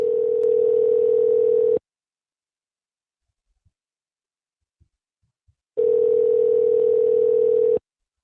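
Phone call tone while calling someone: two long, loud, steady single-pitch tones, separated by about four seconds of near silence with a few faint clicks.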